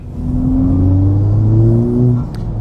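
A car engine revs up and accelerates steadily, its rising drone loud and close, easing off near the end with no talking.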